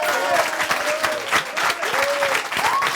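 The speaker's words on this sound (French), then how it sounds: "on peut les applaudir bien fort" A studio audience applauds the chefs at the end of a televised cooking-competition finale, a loud, dense burst of clapping with a few whistle-like tones and some voices mixed in.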